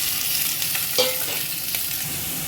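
Onion, garlic and prawns fry in hot oil with a loud, dense, steady sizzle close up. A brief clink of a utensil cuts in partway through, and no one speaks.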